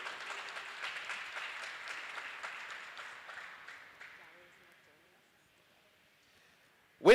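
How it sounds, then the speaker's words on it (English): Audience at a CapeTalk quiz semi-final in Bayside Mall applauding a contestant, a warm round of clapping that gradually fades out into near silence, followed by a sudden loud thump at the very end. "Lauren Fonto, ladies and gentlemen, a warm round of applause."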